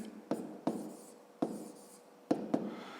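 A pen writes a sum on paper in five quick, close scratchy strokes with short pauses between them, heard alone in a quiet room.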